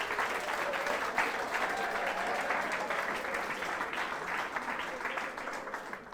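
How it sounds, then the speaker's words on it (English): Students' applause for their teachers at a school gathering: continuous, even clapping from a crowd, moderately distant and steady from start to finish. "So big round of applause for your honorable teachers"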